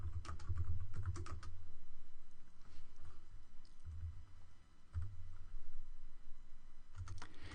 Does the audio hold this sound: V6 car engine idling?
no